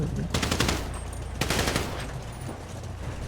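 Rapid bursts of automatic gunfire in a video game, loud and close, in two quick volleys, then fading into a low background hum.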